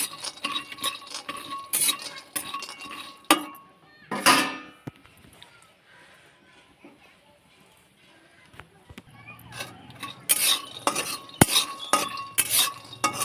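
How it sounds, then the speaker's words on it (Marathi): Peanuts roast in a pan for sesame jaggery chikki, rattling and scraping in sharp bursts as they are tossed. A quieter hiss sits between the bursts. "इथे मी शेंगदाणे टाकून घेतले थोडेसे असे भाजून घेते"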